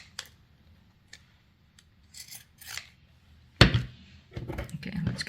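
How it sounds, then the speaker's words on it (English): Fabric scissors snipping through fabric while decorating a junk journal: a few sharp, brief cuts and rasps spaced apart, with one louder close snip near the end amid light handling rustle. "I like to cut with these scissors, the fabric scissors"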